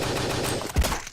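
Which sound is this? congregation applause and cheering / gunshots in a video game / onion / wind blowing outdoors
gunshots in a video game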